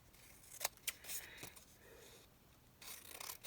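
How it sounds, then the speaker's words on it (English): Titanium scissors cut through paper with glue on it, giving a few sharp snips followed by soft rasping, slicing strokes, quiet and close. "I probably ought to use my titanium scissors since I've got glue hanging over here"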